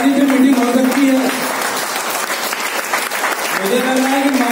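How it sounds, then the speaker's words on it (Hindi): Audience applause at a Women's Day celebration rolls on beneath someone speaking over it, his voice prominent at the start and again near the close while the clapping continues throughout. "तो बताइए इस ताली पे मीटिंग हो सकती है"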